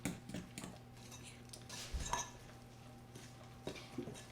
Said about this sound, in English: So now I'm going to mix the dry ingredients into the wet ingredients.